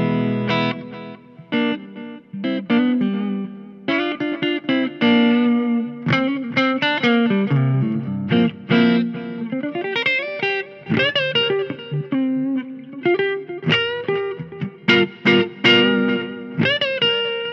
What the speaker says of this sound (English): we'll start on the neck position with the tone all the way up on the guitar